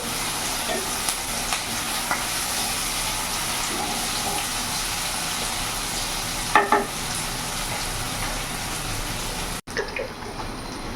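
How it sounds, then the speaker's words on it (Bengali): Chopped onions fry in a pan for a restaurant-style chicken gravy, a steady dense sizzle running throughout with a couple of brief stirring scrapes and no talk. "পেঁয়াজটা আবার ভাজা ভাজা হোক"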